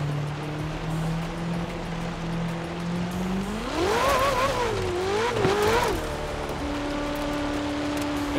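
A Ferrari 488 engine in Forza Horizon 4 played on a steering wheel, a steady mid-pitched drone that climbs sharply into a revving, wavering whine, then falls back to a lower steady hum.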